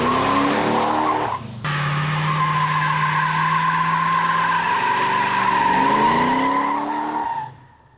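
Junkyard big block Chevy V8 in a truck, revived and motoring down the road: a steady, loud engine drone with a brief dip in the first seconds, then an even pull that fades out at the end.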